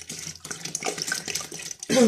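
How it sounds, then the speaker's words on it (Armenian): Water runs in a steady rushing stream, like liquid poured from a tap or jug, with a brief pause before it surges louder. "Հիմա հերթը հասավ ջուր լցնելուն, 20 միլիտր"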